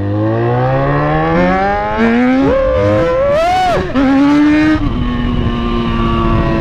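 A Yamaha XJ6 motorcycle revs loudly and close, its engine whine climbing in pitch, dipping briefly, then surging again before settling into a sustained roar.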